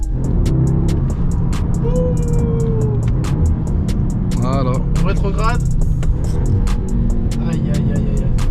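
A 2021 Audi S3 Sedan engine drones steadily from inside the cabin as it downshifts, with small jolts, while people talk over it.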